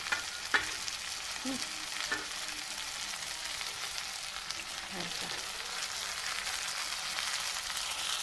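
Okra frying in a tadka of green chilli, garlic and onion gives a steady, fairly quiet sizzle with a few soft scrapes of stirring and no talk.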